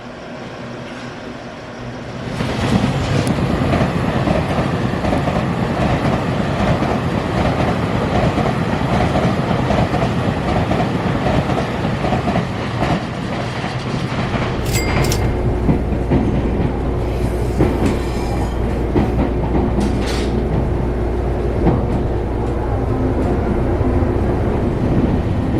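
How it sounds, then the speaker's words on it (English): Steady interior rumble of a Taiwanese EMU 800 electric multiple-unit train in motion, with continuous rolling noise, faint rail clatter and a brief high whine partway through. The sound stays loud and constant, with no talking. "So I'm gonna go take this train up there and then take the Zhiguang Express"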